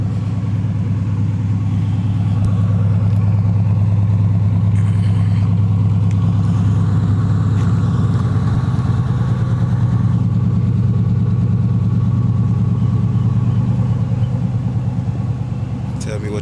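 A 1985 Monte Carlo SS with a 350 V8 and glasspack mufflers idles outdoors, a steady deep burbling exhaust rumble continuing throughout, loud and close.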